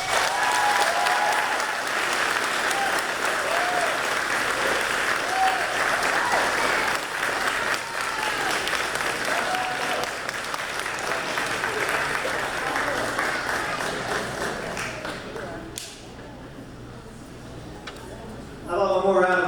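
Sustained applause from an audience at a school moving-on ceremony, loud and dense clapping that fades toward the end before talk resumes.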